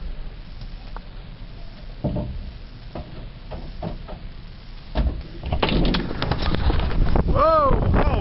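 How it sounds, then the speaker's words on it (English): Blizzard wind gusts outside a back door during a big snowstorm, a steady rushing roar that swells louder toward the end, with a few thuds and creaks mixed in. "This is outside our window, our back door during the big blizzard"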